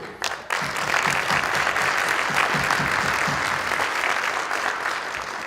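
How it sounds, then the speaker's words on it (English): A room full of people applauds steadily and loudly for several seconds at an awards ceremony, dense clapping with a few voices underneath. "Round of applause."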